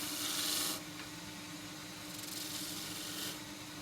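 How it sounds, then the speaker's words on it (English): A 3/4 inch skew chisel cuts a small V groove into an endgrain bowl turning on a lathe, two short bursts of faint scraping hiss over a low motor hum. "Just cut a little V groove"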